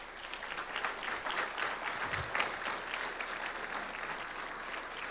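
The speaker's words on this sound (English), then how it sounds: "please give them a round of applause" Audience at a Fort Gibson Public Schools event applauds school foundation board members, a steady sustained wash of clapping from a fairly large crowd lasting the full stretch without letup.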